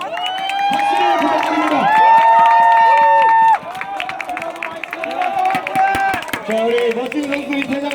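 Baseball stadium crowd cheering and applauding as the players leave the field after a Nexen versus Hanwha game, loud sustained roar with whistles and shouts, an announcer's amplified voice carrying over it throughout.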